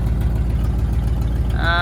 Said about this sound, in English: She wasn't real happy about firing up, but she finally did it. It's got an exhaust leak and it's got a lazy cylinder.